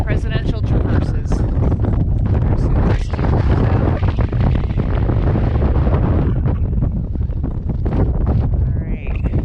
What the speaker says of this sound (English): 27-mile-an-hour winds, max. Okay, that's what it feels like.